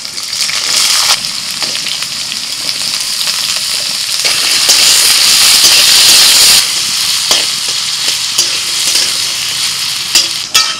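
Potatoes fry in hot oil with black cumin seeds and four green chillies, a loud, close, continuous sizzle with scraping stir strokes and crackles throughout.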